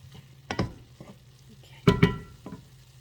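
Flour is stirred into sizzling ground meat in a pan for shepherd's pie, giving a soft steady fry under a few scraping spoon strokes against the pan, quiet and close.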